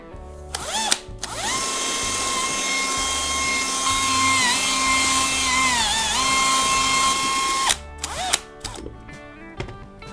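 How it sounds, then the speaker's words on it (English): An electric drill boring a hole through the bottom of a plastic bucket, a loud steady high whine lasting about six seconds with pitch dipping under load, bracketed by short clicks and handling noises. "I'll drill a hole in the center."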